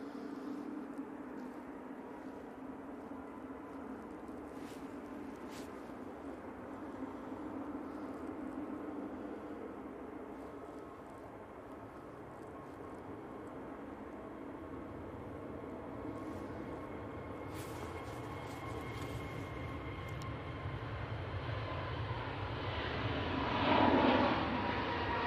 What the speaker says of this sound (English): Right, EasyJet on the roll.